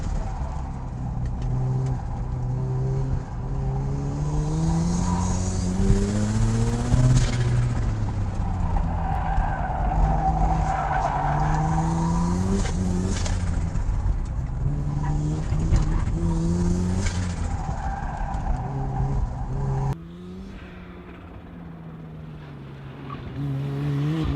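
A tuned Mazda FD3S RX-7 on hot laps, its rotary engine revving hard and rising and falling through gears while the tires squeal loudly and continuously in corners, close and dominant throughout.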